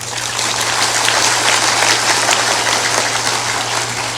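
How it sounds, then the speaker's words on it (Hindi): Steady, dense clapping from a crowd at a religious satsang gathering in Bihar, loud and continuous with no pauses, over a constant low electrical hum. "थोड़ा जोरदार ताली बजाया करो"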